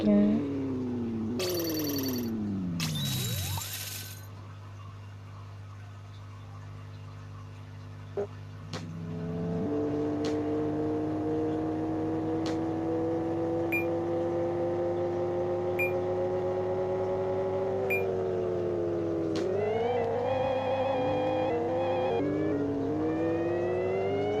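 Pixel-style car engines rev and shift gears through a race in Pixel Car Racer, with rising and falling engine tones and electronic beeps, all heard close and continuous.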